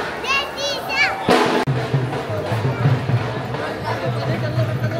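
A large crowd of devotees at the Khatu Shyam temple on Ekadashi, a busy mix of children's shrieks, chatter and murmuring voices filling the space, with one sharp thump partway through and continuous crowd noise.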